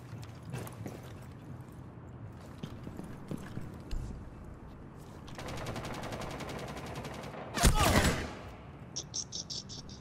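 Automatic gunfire in Rainbow Six Siege: a sustained rapid burst of evenly spaced shots, then a louder sharp blast and a few scattered trailing shots over quiet background game noise.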